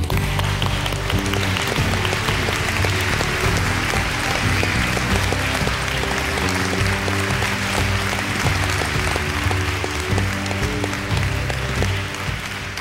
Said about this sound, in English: will you help us give them a very, very warm round of applause?